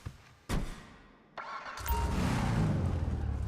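Declasse Tulip muscle car in GTA 5 starting up: a click, a sharp starter crank, a second crank, then the engine catching into a loud, deep, steady idle rumble.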